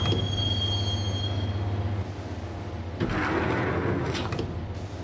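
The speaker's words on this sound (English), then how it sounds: "the train doors had already shut behind me, and I was in for the ride" A train in the Max Payne video game rides on its rails with a continuous rumble, a high metallic wheel squeal early on and a clattering jolt midway, no talk.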